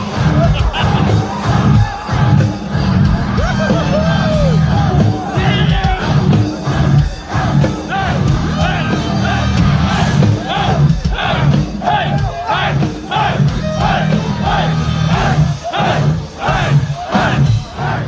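Dense crowd roaring and yelling in a mosh pit at a set during Good Things Festival 2022, loud and continuous with pulsing shouts over heavy low-end music throughout.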